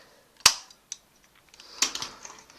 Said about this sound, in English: pull the front of the cannon forward, you'll just automatically launch it